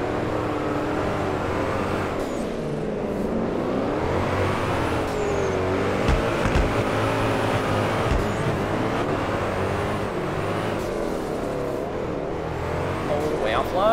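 A drift car in the Drift21 game revs hard with repeated rising and falling engine sweeps over a steady roar, while someone talks over it.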